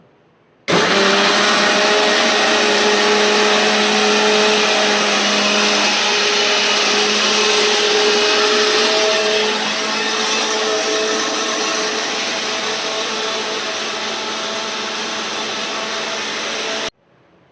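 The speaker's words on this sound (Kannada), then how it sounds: "ಮಿಕ್ಸಿಗೆ ಹಾಕಿದ್ದೇನೆ ಎಲ್ಲ ರವೆ, ಸೌತೆಕಾಯಿ, ಅಕ್ಕಿ ಹಿಟ್ಟು." A mixer grinder blends semolina, cucumber and rice flour into dosa batter, a loud, continuous motor whir that starts abruptly, holds steady for about sixteen seconds and then cuts off.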